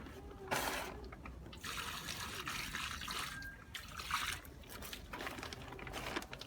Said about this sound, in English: put water in it or flood it with water.